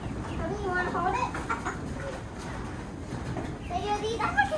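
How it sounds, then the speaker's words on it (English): Chickens in an African village cluck and squawk in short bursts near the listener, mixed with children's voices and chatter outdoors. "These chickens are hard to catch."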